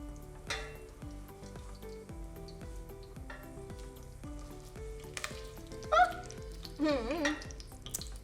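Sausages fry in oil in a pot with a steady low sizzle and occasional stirring clinks, partly masked by continuous background music.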